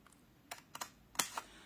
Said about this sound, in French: Donc maintenant, allez, les ciseaux, on coupe.